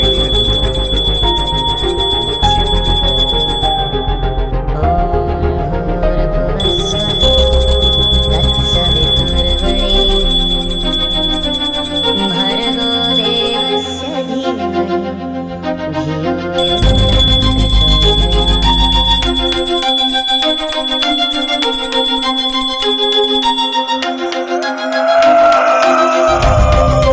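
A hand bell rings steadily during a chanted mantra in an old haunted mansion, loud and sustained with bright ringing tones layered over a dense musical backdrop, no speech.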